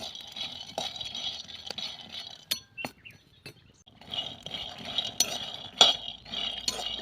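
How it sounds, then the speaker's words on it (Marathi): Peanuts dry-roast over a low flame for chutney while a utensil scrapes and clinks against the pan, producing intermittent rattling stirs close by with short quiet pauses, no voices. "शेंगदाणे आपल्याला चांगले खरपूस असे भाजून घ्यायचे आहेत"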